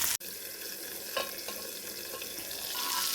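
Tomatoes frying in a pan for a paneer and green peas curry, a steady soft sizzle with a sharp click at the start and a few faint stirring scrapes.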